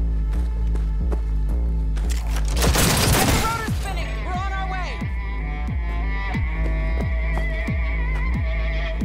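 Gunfire in the video game Cyberpunk 2077 during an explosive action scene, a dense loud burst of shots and booms in the middle, set against steady game music, hits and footsteps.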